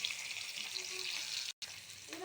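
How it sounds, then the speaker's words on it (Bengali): Sliced onions sizzle in hot oil in a home kitchen, giving a steady, crackling hiss that lasts throughout, with a brief gap of silence partway through. "তেল গরম হয়ে গেছে,"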